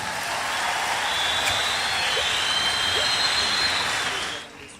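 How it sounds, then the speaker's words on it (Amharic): A church congregation applauding at a youth gathering, a dense, steady wash of clapping that fills the space throughout and tails off at the very end. "አጨብጭቡለት።"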